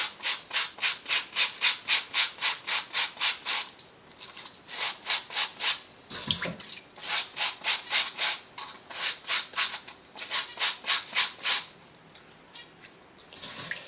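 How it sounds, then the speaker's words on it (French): A small wire brush scrubs the sole of a soft leather slipper in quick rhythmic back-and-forth strokes, close and crisp, in several bursts separated by brief pauses. "j'utilise une petite brosse métallique. On y met un petit coup."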